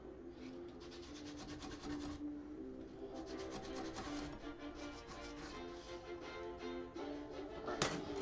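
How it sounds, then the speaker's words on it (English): Fiberglass edges are hand-sanded with 120 grit sandpaper in quick, close, rhythmic rasping strokes, repeated in bursts across the whole clip with a brief louder scrape near the end. "take some sandpaper and just clean those little edges up at the sides you sand it"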